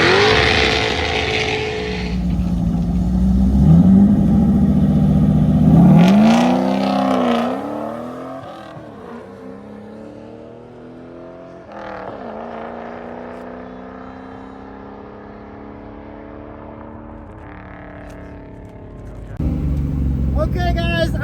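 A car launches hard down the drag strip at the Carolina Drag Cruise, its engine revving up through rising gear sweeps, loud and close from inside, then settling into a steadier drone with people talking over it.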